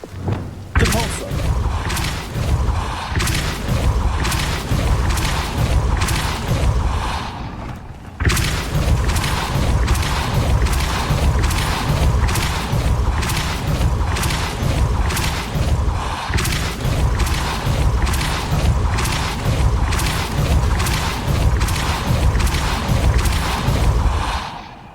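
Depulso spell effects in the video game Hogwarts Legacy: a rapid train of loud, punchy booming thumps repeating in quick rhythm, briefly pausing once before resuming.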